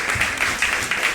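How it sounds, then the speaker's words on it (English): An audience at a 1995 Vyasa Puja religious gathering in Atlanta applauds, a brief burst of clapping with a few distinct louder claps rising from the crowd. "So please give them a round of applause."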